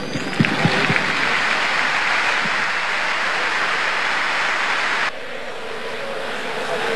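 A stadium crowd at a Talleres vs Independiente Argentine first-division football match applauds after a minute of silence, a broad, roaring wash of distant clapping that stays steady, then drops somewhat in level near the end.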